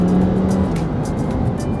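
Lamborghini Huracán Sterrato driving along a single or double carriageway in Italy on rough tarmac, a steady loud engine drone with road and tire roar throughout, no talking.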